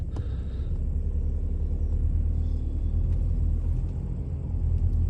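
Steady low engine rumble and road noise inside a Volkswagen Passat 1.6 with a seven-speed DSG gearbox on a test drive, continuous and fairly loud, with no talking.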